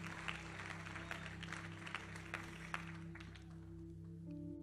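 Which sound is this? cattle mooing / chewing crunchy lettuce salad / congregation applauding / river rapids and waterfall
congregation applauding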